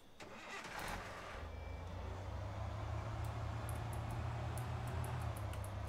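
A car engine cranks and catches in the Thief Simulator video game, then settles into a steady, close low idle rumble that runs alone for several seconds, with a few faint clicks on top.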